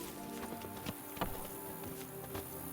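Hooves of Roach, the horse in The Witcher 3: Blood and Wine, clip-clopping in a loose, uneven walking rhythm over steady ambient game music, with a few sharper hoof strikes standing out.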